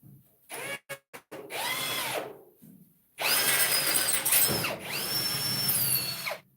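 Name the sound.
drilling with a drill bit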